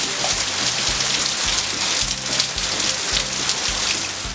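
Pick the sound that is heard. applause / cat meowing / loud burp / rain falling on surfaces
rain falling on surfaces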